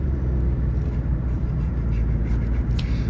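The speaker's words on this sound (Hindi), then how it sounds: "हमारी गाड़ी की भी साउंड तब्दील हो गई है।" A car engine strains as it climbs a steep mountain road toward Babusar Top in Pakistan, giving a constant low rumble that fills the short stretch, with faint road noise above it and no talk.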